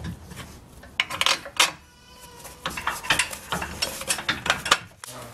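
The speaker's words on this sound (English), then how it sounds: "Now we're going to put in top shock bolt first." A ratchet clicks in quick bursts, tightening the top shock absorber bolt during an RPG Stage 3 rear suspension install, in close, loud metallic runs separated by brief pauses.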